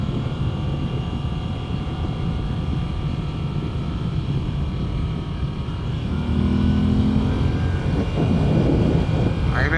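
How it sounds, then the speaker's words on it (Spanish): A 2021 Moto Guzzi V7 Stone engine humming steadily at mid-range revs, with a slight rise in pitch and loudness toward the end, under rushing wind. "ahí sí que el sonido no me gusta tanto, pero en el medio régimen"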